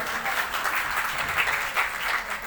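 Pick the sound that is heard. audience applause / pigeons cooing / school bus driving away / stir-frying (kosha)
audience applause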